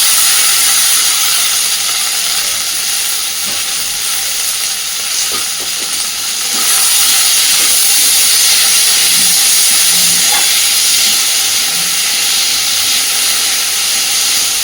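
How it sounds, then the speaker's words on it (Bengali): Diced potato and onion fry in fish oil, giving a loud, continuous hiss and sizzle close up that runs without pause, with faint stirring knocks now and then and no talk. "আলু পেঁয়াজটা একটু নরম হওয়া পর্যন্ত এইভাবে একটু ভেজে নেব"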